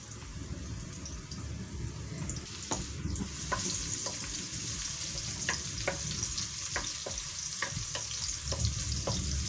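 Chopped raw onion and bay leaves fry in oil in a pan, making a dense, steady sizzle with intermittent spatula scrapes and taps and no speech.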